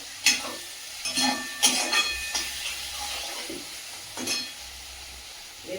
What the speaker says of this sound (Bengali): মশলাটা একটু কষিয়ে দিচ্ছি। এইবারে এর ভিতরে দেবো একটু টমেটো কুচি, দুটো কাঁচা লঙ্কা ছিল দিয়ে দিলাম